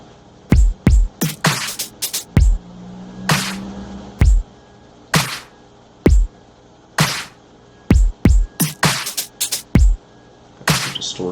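A drum sample in FL Studio is pushed through heavy distortion, giving harsh, crunchy punches that hit loud and alone in an uneven rhythm, separated by short gaps.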